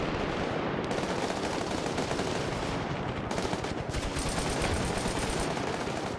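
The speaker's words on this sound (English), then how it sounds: "Machine gunners are returning fire." Sustained machine gun fire in a Vietnam-era PvP match of a military video game, dense and continuous bursts rattling without pause, loud and close with heavy layered gunfire and no talk.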